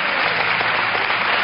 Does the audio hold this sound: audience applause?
yes